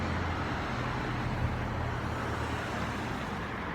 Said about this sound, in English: it's loud right now. For this topic, there's like really just steady traffic